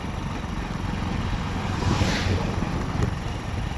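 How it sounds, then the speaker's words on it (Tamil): Steady wind rushing past the microphone along a winding hairpin road on a village-to-town trip, a continuous broadband roar with a slight swell midway and no speech. "காற்று உசு உசு உசு உசுன்னு அடிச்சுட்டே இருக்கும் பார்த்துக்கோங்க"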